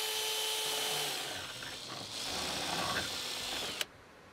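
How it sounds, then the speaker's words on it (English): Power drill boring reference holes through an attic ceiling for installing attic stairs: a steady whirring motor runs for several seconds, dips briefly midway, then stops abruptly, leaving quiet. "time for me to drill our reference points"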